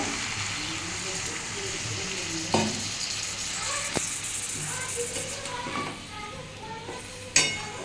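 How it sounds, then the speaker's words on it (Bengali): Sizzling pan of fish head and katoya data stems for a Bengali chochchori, with water added, a continuous close frying hiss broken by a few sharp utensil knocks and stirring scrapes. "আমি এবার এর মধ্যে সেদ্ধ হওয়ার জন্য জল দিয়ে দেবো"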